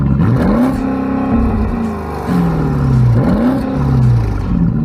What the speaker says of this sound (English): put the car into neutral and the ESP off and then rev it, and then it'll rev all the way